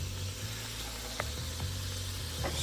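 Butter and extra virgin olive oil sizzle steadily in a pot with potatoes, a close, continuous frying hiss with a few faint clicks scattered through it.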